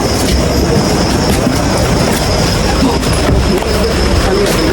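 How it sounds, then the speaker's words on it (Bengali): A train pulls into a railway station, its loud, steady rumble of rolling wagons and wheels on the track filling the whole stretch, with faint clicking and a hint of high wheel squeal on top. "তো ফাইনালি ট্রেন এসে গেছে"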